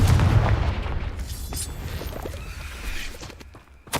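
Confringo blasting spell cast in the video game Hogwarts Legacy, a heavy booming blast followed by a rumbling, fading tail, with a sharp smaller pop near the end.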